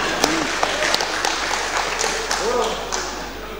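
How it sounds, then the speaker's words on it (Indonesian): Applause in a provincial parliament (DPRD Gorontalo) plenary session chamber, a steady wash of clapping throughout with a few sharper claps, and voices murmuring and speaking underneath. "Tepuk tangan dulu."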